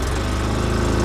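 A 2005 Polaris Ranger XP 700 utility vehicle engine with an exhaust leak runs rough at close range, a loud, uneven pulsing idle heard briefly on its own.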